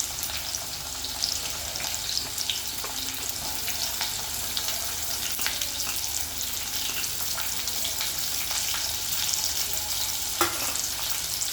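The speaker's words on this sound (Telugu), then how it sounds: "ఇక ఉల్లిపాయలు వేస్తుంది" Onions frying in a pan for chicken gravy, a loud, continuous hissing sizzle up close with faint stirring and a few clinks, and no talk.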